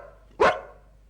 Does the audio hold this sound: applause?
no